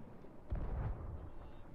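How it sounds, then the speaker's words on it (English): Fire cannonballs bursting against a pirate ship in the Sea of Thieves video game, a single deep booming explosion that swells briefly and then fades into a low rumbling tail. "I threw a bunch of fire cannonballs at our ship."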